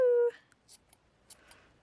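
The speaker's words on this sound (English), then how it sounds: "so snip, snip, here we go" Scissors snipping the ends of a yarn tassel on a knitted scarf, a few short, sharp, close cuts spaced unevenly after a brief tone at the start.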